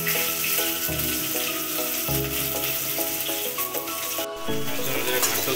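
Chopped onions hit hot mustard oil with spluttered mustard seeds for an Odia mushroom curry, a loud continuous sizzle with a few dull thuds, set against steady tonal background music.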